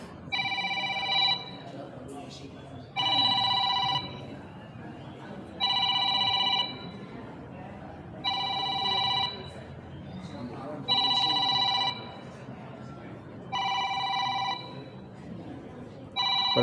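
A mobile phone rings during an Islamic sermon, its electronic ringtone repeating in six evenly spaced bursts over a low, murmuring room background.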